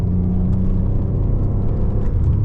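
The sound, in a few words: V6 car engine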